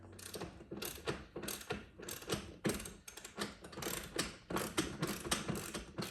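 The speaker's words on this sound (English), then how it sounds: "I'm just double checking the fasteners, tightening up anything I found." Fasteners on the roof track brackets of a Thule Hideaway awning on a 2023 Sprinter van are tightened with a ratchet, making rapid repeated clicking bursts in an uneven rhythm, close up and alone.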